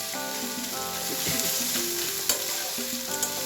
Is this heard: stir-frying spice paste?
yes